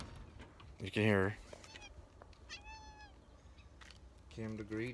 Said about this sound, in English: my cat's out here somewhere.